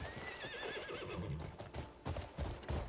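Horse neighing in the video game Crimson Desert, a high wavering whinny followed by thudding hoofbeats, close and fairly loud.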